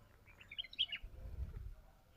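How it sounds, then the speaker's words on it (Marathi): Small birds chirp and tweet outdoors in a short burst of bright, quick calls, moderately close, with low rumbling background noise and no talking. "इथे आम्हाला छान पक्ष्यांचा आवाज ऐकायला येत होता"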